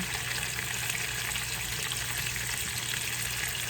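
Beef sizzles in a pot as it is sautéed for Haitian-style spinach, a steady, fairly quiet hiss with a constant low hum underneath and no talking.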